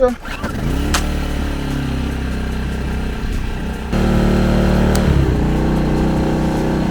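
A cold Dnipro-M petrol generator engine starts up and settles into a loud, steady running drone, nearby, with its pitch stepping up partway through as it shifts to a higher load.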